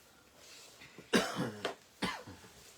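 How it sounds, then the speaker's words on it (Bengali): Two or three harsh coughs in quick succession after a quiet moment, fairly close and loud, with no talking. "আমি তো আজকে কেশে কেশে মরে যাবে গো।"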